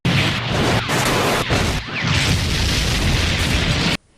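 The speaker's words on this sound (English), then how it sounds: "The Minotaurs explode, Spartak escapes, and the whole building comes crashing down" A loud, sustained cartoon explosion of Minotaurs with heavy rumbling, followed by a building crashing down with smashing debris, then an abrupt cutoff into silence.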